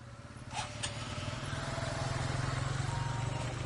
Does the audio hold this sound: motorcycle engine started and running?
yes